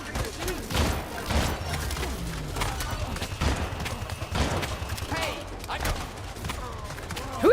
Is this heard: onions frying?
no